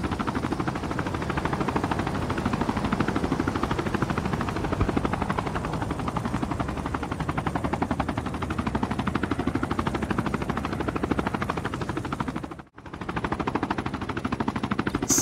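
Helicopters flying in a Call of Duty match, a continuous loud rotor chop with dense rapid pulsing, briefly cutting out near the end before resuming.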